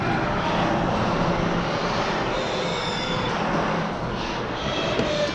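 A double-car garage door moving under a Genie ALKT1-R Aladdin Connect smart opener gives a loud, steady rolling rumble, like a passing train, that holds evenly and eases slightly near the end.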